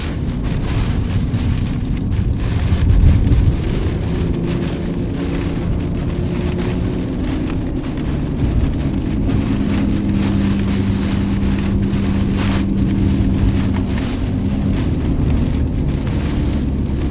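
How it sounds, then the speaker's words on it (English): Strong tornado-outbreak storm wind in Illinois, with gusts around 90 mph, roars steadily with low rumbling buffeting gusts, loud and close throughout, with no voices. "Brace ourselves for some more gusts."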